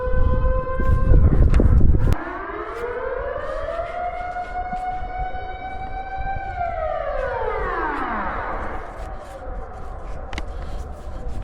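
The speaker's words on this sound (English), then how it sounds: "every first Monday of the month at noon, they test the alarm sirens." A Dutch civil defense alarm siren sounds during its monthly noon test in Leeuwarden, a loud wailing tone rising and slowly falling outdoors after a burst of nearby clatter.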